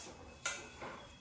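A metal cooking pot for making popcorn is picked up and handled in a home kitchen, giving one faint clank followed by a softer knock in a quiet room.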